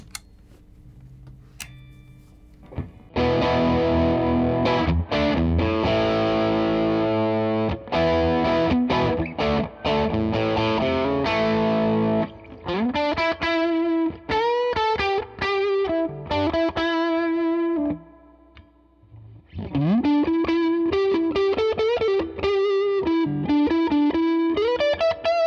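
Collings 360 LT electric guitar fitted with Lawler pickups, played through a Whitfield DUI distortion pedal: dense, loud overdriven chords and riffs, a short pause, then distorted single-note lead phrases with bends, close and alone.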